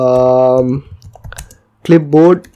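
Soft clicks of typing on a computer keyboard fall in a short pause between stretches of a man's speech.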